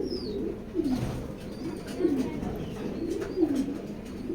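Racing pigeons, including a female, coo close by. Three soft, throaty coos come at an even pace about a second and a half apart over faint background noise.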